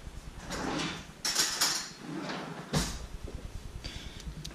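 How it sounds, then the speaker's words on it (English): A butter knife picked up and handled while changing a vape coil on a Smok T-Priv, giving a few close metallic clinks and scraping knocks against hard surfaces, with no voice. "And then you can grab a butter knife."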